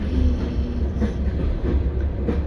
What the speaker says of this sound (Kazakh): Бұл жерге үлкен пойыз тоқтаған көрген емеспін ше.